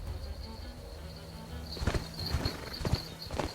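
Horse hooves clip-clop in an Age of Empires IV cutscene about Yam relay messengers, soft at first then a cluster of clear hoof strikes later, set over a low ambient bed with a faint high tone.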